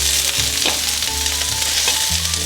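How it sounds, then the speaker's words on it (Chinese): Cabbage and green pepper stir-frying in a wok with a little oil, a steady loud sizzle with some stirring scrapes, nobody talking. "接着放入青椒，"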